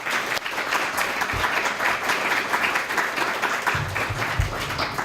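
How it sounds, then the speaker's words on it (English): An audience applauds with steady, dense clapping throughout, loud and close, with no speech over it. "you should all give yourself a round of applause for that"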